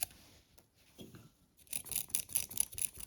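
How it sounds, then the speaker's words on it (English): Sandpaper rubs over the switch contacts of a Gaggia espresso machine to clean them, a quiet pause giving way to a quick series of rhythmic, close scratching strokes. "the best thing you can do is just give the contacts a clean"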